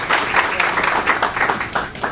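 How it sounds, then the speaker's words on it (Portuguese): Quick, brisk audience applause greets a speaker at a talk, with individual claps close together in a fairly loud, even patter over a short stretch. "pedir uma salva de palmas para ela"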